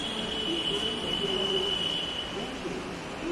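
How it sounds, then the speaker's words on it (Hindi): Metro station ambience: a steady hum of trains and platform machinery with a faint high whine and a wheel squeal, filling the space evenly throughout. "मैं आ गई मेट्रो स्टेशन"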